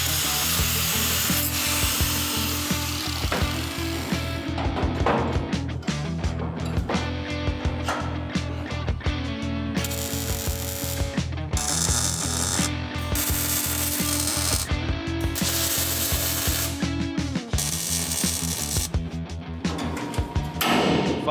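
Short lengths of framing stock are cut to tie into the bed sides of a 1972 Chevrolet C10 show truck build, with a loud, continuous rasping saw working steadily throughout and no talk.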